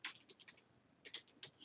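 Quiet clicks of typing on a computer keyboard, entering text in the Umlet UML diagram tool. Two short bursts of rapid keystrokes with a brief pause between them, close and faint, with no talking.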